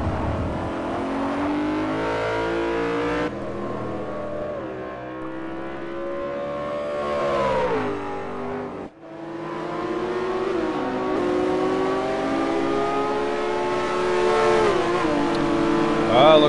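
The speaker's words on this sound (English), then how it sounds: "listen to the sounds of them racing." Race cars in a sim racing game's GSWT series, engines whining and revving in sustained loud pitch sweeps as they accelerate and shift, with a brief dip before the roar resumes and continues strong.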